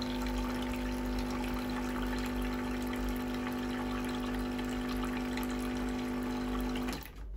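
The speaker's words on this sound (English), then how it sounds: "Push that in there, and then we just switch on the pump." A Truvox HC250 carpet cleaner's pump runs steadily for about seven seconds, emptying the solution tank through the emptying tube with a constant whine and gushing water, then cuts off abruptly.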